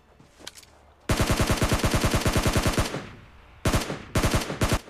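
Loud automatic gunfire in PUBG Mobile: a long, fast burst of evenly spaced shots, then a pause and two shorter bursts, heard up close with no talking.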